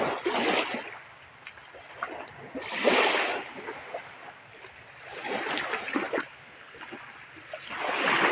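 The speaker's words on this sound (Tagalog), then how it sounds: "Nahampas ang alon." Sea waves at high tide rolling in and crashing, with broad washes of splashing surf rising and falling every few seconds, fairly close and steady throughout.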